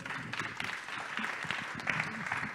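Audience applause welcoming a speaker on stage at a business startup day event, fairly quiet and distant steady clapping with some murmuring voices mixed in.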